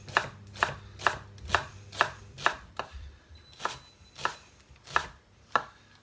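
A knife chopping onions on a cutting board at a cookery school, about fourteen crisp, evenly spaced knocks in a steady rhythm with a brief pause midway, close and clear with no talking.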